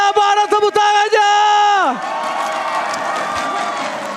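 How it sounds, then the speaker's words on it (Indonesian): Esports arena crowd at a Mobile Legends match, EVOS Legends versus ONIC, cheers and applauds after a bright tonal jingle with sharp hits fades out; a steady crowd roar carries through the remainder. "So, APL Arena mana tepuk tangannya?"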